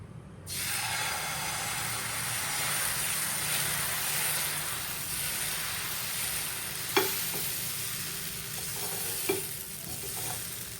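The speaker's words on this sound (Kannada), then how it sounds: "ಇವಾಗ ದೋಸೆನ ಹಾಕೋಣ" Dosa batter poured onto a hot pan sizzles loudly right away, a steady frying hiss that continues throughout with a couple of faint clinks from a utensil.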